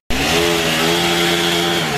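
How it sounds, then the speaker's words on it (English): A chainsaw engine runs at a steady high whine, loud and close, droning without a break for the whole stretch. "Nothing like the fresh sound of sawing some trees down to wake you up in the morning"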